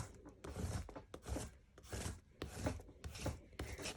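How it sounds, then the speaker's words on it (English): Paper is rubbed hard over a collagraph print in an elementary art lesson: about eight quick, firm, scratchy strokes in an even back-and-forth rhythm, close by, with no talking. "I'm going to rub really hard"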